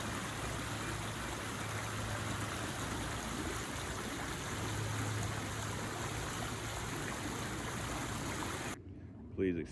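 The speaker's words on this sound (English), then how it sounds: "Here is a pleasant sounding creek for you." A forest creek rushes and trickles steadily at close range, a continuous broadband wash that cuts off abruptly near the end, leaving a brief quiet moment.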